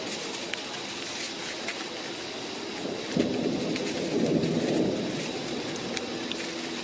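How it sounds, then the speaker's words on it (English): Distant thunder rumbles low and muffled for a couple of seconds through a steady wash of rain in a damp, misty forest, with light patter and drips throughout and no voices. "I hope I'm not hearing thunder."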